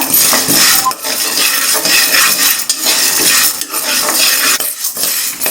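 Flax seeds and peanuts dry-roast in a pan without oil. Loud continuous scraping, rattling and clinking of utensil against pan goes on throughout as they are stirred.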